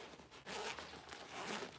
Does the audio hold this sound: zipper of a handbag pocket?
yes